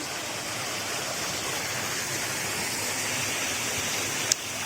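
YanDong Waterfall rushes in a steady, dense roar of falling water, loud and unbroken throughout, with no voices.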